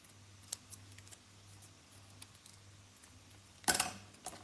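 Scissors snip once through a strip of plain white card stamped with a sentiment, cutting it at an angle, a short crisp burst near the end after a stretch of quiet room tone.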